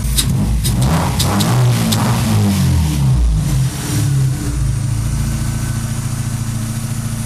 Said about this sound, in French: Tu peux constater que le moteur tourne bien